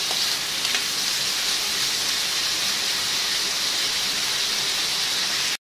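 Ham simmers in butter in a pan for carbonara, a steady loud sizzling hiss that runs unbroken and close, then cuts out abruptly at the end.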